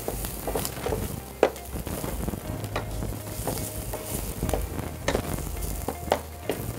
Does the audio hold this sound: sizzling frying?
yes